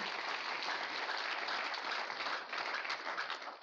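A church congregation breaks into sustained, vigorous applause, a dense even roar of clapping that dips briefly then continues.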